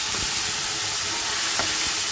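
Tomato paste with onion, ginger, garlic and chili sizzles in a kadai over cumin, bay leaf and fried potato, a dense, steady hiss with a few faint stirring knocks.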